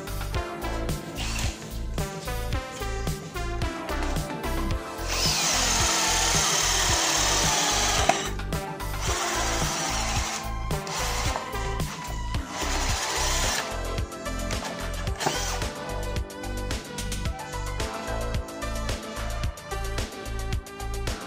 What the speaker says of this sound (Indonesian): media pengeboran adalah kayu mahoni dengan ketebalan 6 cm. Menggunakan mata bor Speedbit 25 mm, kecepatan nomor 2, dan mode drilling